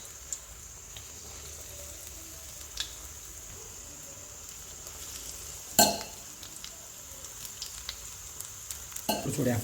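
Kolhapuri kat vada sizzling as it fries in moderately hot oil, a steady soft crackle with a sharp clatter midway and louder bubbling near the end.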